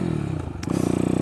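A road-legal YCF SP3 pit bike with a single-cylinder engine and a quality aftermarket exhaust line, loud and close, with a steady throbbing exhaust note that briefly dips and then swells into a harder, pulsing rev.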